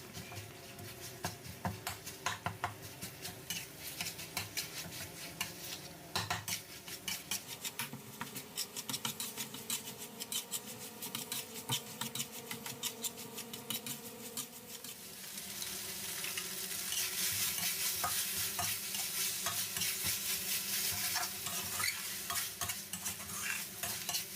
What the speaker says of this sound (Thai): จากนั้นเราก็ผัดให้หมูสับเราสุกครับ